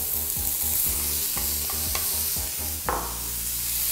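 Coriander root, carrot and broccoli stir-fried in oil over low heat: a steady sizzle runs beneath a regular rhythm of spatula scrapes and knocks against the pan, close and fairly loud, with no voices.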